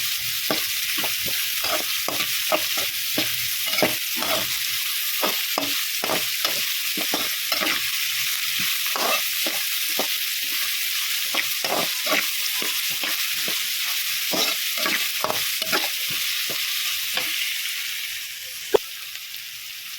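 Ingredients for uppittu frying in a pan under a constant bright sizzle, with a spatula scraping and stirring in quick, steady repeated strokes, close and continuous, ending in a single sharp clink.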